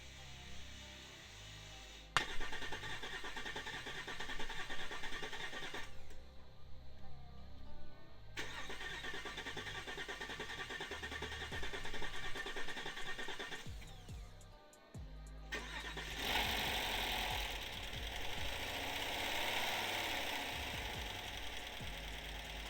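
A 2017 GMC Denali engine cold-starting after a camshaft replacement, with starter cranking, a catch, then loud close idling and revving with some knocking across repeated attempts, no talking.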